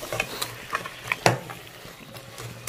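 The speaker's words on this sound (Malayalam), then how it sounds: "ഒരു 2 ടേബിൾ സ്പൂൺ പൊതിനയിലയും ഇതിട്ട് നമ്മൾ നന്നായിട്ട് മിക്സ് ചെയ്ത് കൊടുക്കും" Rice with about two tablespoons of mint leaves being stirred and mixed by spoon for beef kabiri rice, giving a series of short scraping and clinking strokes in an uneven rhythm, close by with no talking.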